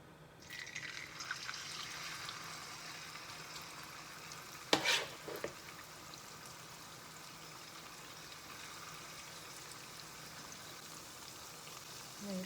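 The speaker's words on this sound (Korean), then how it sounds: "이 감자를 이제 부쳐볼게요. 식용유를 넉넉히 넣어주세요." Grated potato pancake batter fries in a generous amount of cooking oil in a pan, a faint, steady sizzle with one brief louder clatter partway through and no talk over it.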